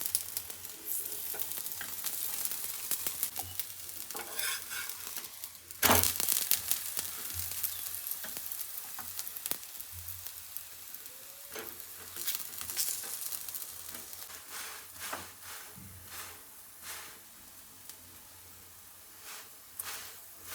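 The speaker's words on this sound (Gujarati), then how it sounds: "ધીમા ગેસ ઉપર પરાઠાને શેકીશું." Aloo paratha fries in oil or ghee on a pan over low gas, giving a steady close sizzle with crackles, a few louder bursts and occasional stirring or flipping scrapes, with no talk.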